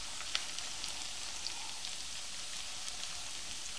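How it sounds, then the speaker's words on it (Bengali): Onion paste sizzles and splatters in hot oil while chicken roast fries, making a steady, dense crackling hiss at moderate volume with occasional sharper pops. "পেঁয়াজ বাটা দেওয়ার পরে অনেক সময় এটা ছিটতে থাকে চারিদিকে"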